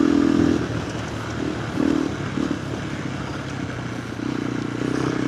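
A KTM 390 Adventure R fitted with a Norifumi Whoops exhaust rumbles along on a ride, its engine droning steadily and loudly up close with small swells in revs, wind and road noise underneath.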